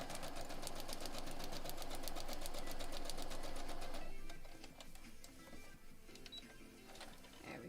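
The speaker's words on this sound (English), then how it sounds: "So let's go ahead and sew the rest of these." A sewing machine stitches a foundation paper pieced syringe quilt block, running in a steady, fast continuous burst for about four seconds, then quieter, intermittent short stitching follows.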